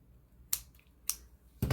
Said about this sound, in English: you just take scissors and you just go and you just kind of cut it off